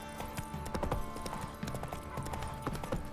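Hooves of Roach, Geralt's horse in The Witcher 3, clip-clop in a quick steady rhythm on a hard surface, close and clear over faint background game ambience.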